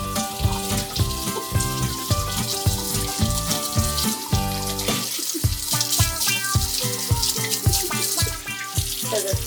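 Potatoes being scrubbed clean under a running kitchen tap, with a continuous splash of water and irregular scrubbing and knocking sounds, close and fairly loud, with no speech.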